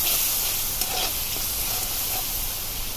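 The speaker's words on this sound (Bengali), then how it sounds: "এখন মশলাটাকে কিছুক্ষণ কষিয়ে নিব।" Bengali spice paste with coriander powder fries in a pan, producing a loud, unbroken close-up hiss and sizzle with faint stirring underneath.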